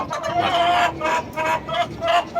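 Chickens in a rooftop free-range coop cluck and call close by in repeated bursts, fairly loud, with a few faint background sounds between them.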